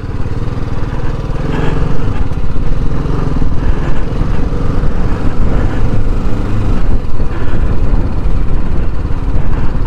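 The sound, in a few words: motorcycle riding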